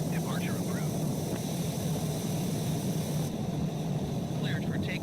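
A light aircraft departs from runway 27, its engine drone steady and loud throughout. Radio chatter and talk sit over the engine noise.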